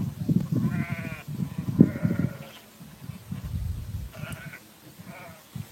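A distant flock of sheep bleats while an Israeli shepherd calls them in, with several wavering bleats scattered over about five seconds above a low rumbling outdoor background.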